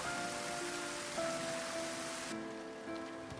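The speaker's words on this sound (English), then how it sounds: "That rain effect is impressive." Rain pours steadily in the video game Final Fantasy XIII, a dense continuous hiss of falling water with faint musical tones sustained underneath.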